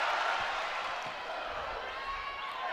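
Crowd noise fills Nebraska's Devaney Center volleyball arena, a broad, steady murmur of cheering with scattered thumps beneath, moderately loud and unbroken.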